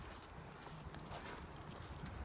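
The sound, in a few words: horse hooves clip-clopping while being ridden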